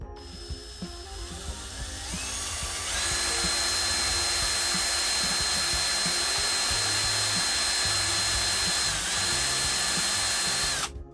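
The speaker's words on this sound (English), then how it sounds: "Just drill." A power drill whirs steadily at close range, drilling into a trolling motor lower unit, its motor pitch rising as it bites in and then holding a loud, continuous whine.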